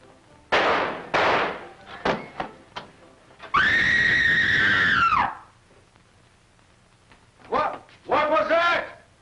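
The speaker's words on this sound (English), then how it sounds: "Who screamed?" A woman screams loudly in a 1945 film noir, a sustained high piercing cry lasting about two seconds, preceded by sharp shouted voices and followed by further short frantic cries and speech.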